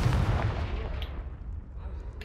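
A Confringo fire-spell explosion in Hogwarts Legacy: a deep, rumbling blast that fades slowly over about two seconds, fairly quiet overall.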